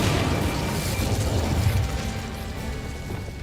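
An Incendio fire spell cast in Hogwarts Legacy, a dense roaring whoosh of flame with low rumbling body that gradually fades over a few seconds.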